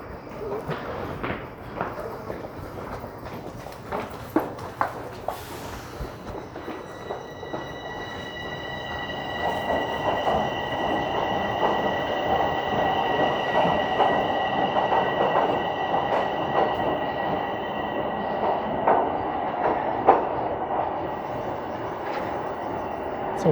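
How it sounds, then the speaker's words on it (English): Train arriving near Toronto Union Station, a growing rumble of wheels with sustained high squealing tones from the rails, moderately distant and continuous, with footsteps and faint background noise early on. "sounds like that's the train I want"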